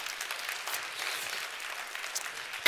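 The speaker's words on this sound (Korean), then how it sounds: "수고했다고 박수 한번" A church congregation claps for young people who just finished their college entrance exam, steady applause filling the room at moderate volume throughout, ending in a sudden loud bump.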